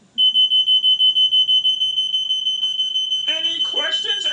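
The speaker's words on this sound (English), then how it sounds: "what to do when you hear the beeping of a smoke alarm" A smoke alarm sounds a rapid run of loud, even high-pitched beeps with short gaps between them, repeating steadily. Voices then start talking over the end of the beeping.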